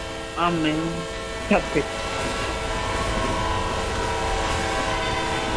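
A Roblox game train sounds two short horn blasts near the start, followed by a steady mechanical rumble of the train running.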